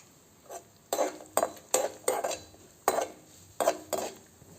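Dry dates, cashews and raisins tossed in a kadai: a series of sharp metallic scrapes and clinks of a spoon against the pan, about eight strokes in irregular rhythm, close, over a faint background with little sizzle.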